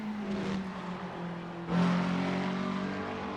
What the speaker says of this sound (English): I'd say that sounds like the McLaren.